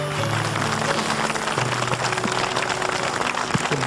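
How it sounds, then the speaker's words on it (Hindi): An audience at a live performance by a singer applauds in tribute to mothers. A broad wash of clapping runs steadily from start to end, with sustained musical tones humming underneath. "ये पैगाम सबकी तरफ से सारी माओं के लिए बहुत सारी तालियां"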